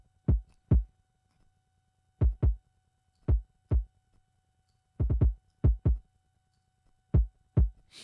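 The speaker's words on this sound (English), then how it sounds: "this is a short kick. So this is only have one purpose of being nice and punchy and tight." Short, punchy trap kick drum sample hits in tight pairs and small clusters, each thump dry and quick to decay, loud and alone with silence between.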